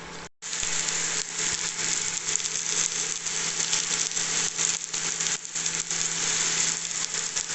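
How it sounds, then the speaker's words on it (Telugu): Onions frying in a pan for a Telugu curry, a steady close hiss and sizzle running unbroken after a brief gap at the start. "ఉల్లిపాయలు వేద్దాం అన్నీ వేసినాక కాసేపు కాకనిద్దాం"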